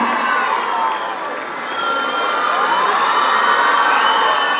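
A crowd at a public event welcomes Chief Minister Siddaramaiah with sustained loud cheering and whooping, many voices shouting together in a continuous, fairly close roar that swells slightly toward the end.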